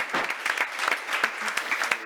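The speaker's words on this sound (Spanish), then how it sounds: "Y pido otro aplauso para la gente del BC3 que ha posibilitado que este acto funcionara" Audience applause at a round-table event on the Green Deal and the climate crisis, a steady, dense clatter of many hands clapping without a break.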